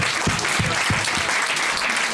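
Audience applause fills a French stand-up comedy show, a dense steady wash of clapping heard close and loud throughout, with a few heavier low thumps early on.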